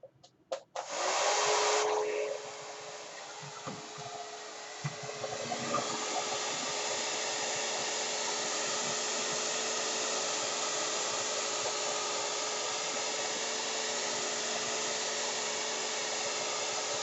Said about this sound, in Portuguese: Vou ligar o secador para tirar a cola com mais facilidade.